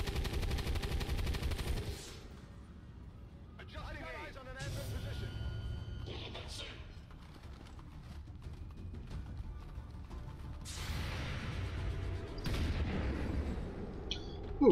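Gunfire in the game XCOM 2 comes as several sharp bursts and booms spread through the clip, with quieter stretches between them and someone talking over parts of it.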